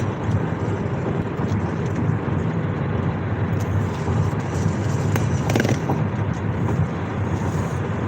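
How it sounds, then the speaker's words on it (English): Steady broadband wind roar and low engine drone inside a moving car on a highway drive, constant and fairly loud throughout with no other clear events. "It's noisy up here because of the wind and the car motor."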